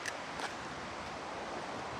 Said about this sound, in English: That's the sound of rushing water.